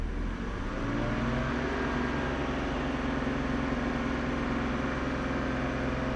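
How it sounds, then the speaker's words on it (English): Car engine, fully warmed up, held at a steady 2500 rpm during a vacuum leak diagnosis: a continuous, even mid-to-low drone, close and constant throughout with no talk. "Let's rev this thing to 2500."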